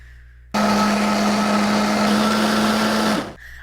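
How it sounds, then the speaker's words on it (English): A high-end countertop blender switches on abruptly and runs at a steady, loud whine for about three seconds, then spins down and stops, close and alone. "This is a hell of a blender."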